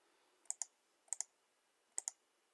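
Mouse clicks selecting Next in circuit-board design software: three quick double clicks, each a sharp, light pair of taps, spaced across a quiet background with no talk.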